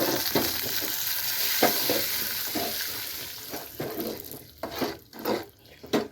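Spoon stirring a fried tempering of cashews and asafoetida into dal pongal in a pan over high flame, with soft scraping and bursts of sizzle and clinks that grow louder toward the end.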